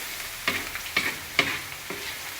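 Garlic frying in rendered pork fat, a steady sizzle broken by several sharp stirring scrapes roughly every half second, close and moderately loud with no talk.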